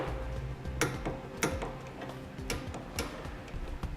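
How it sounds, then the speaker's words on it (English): Torque wrench clicking on base plate bolts during installation on a 2012 GMC Terrain, with several sharp separate clicks spaced through a steady clattery mechanical background. "we're going to come back with the torque wrench. We're going to torque them down to the specified amount in the instructions."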